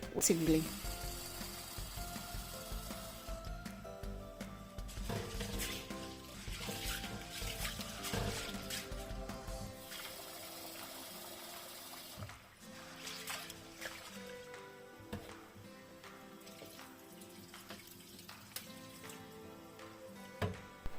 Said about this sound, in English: Afterwards, I go on to wash my beans.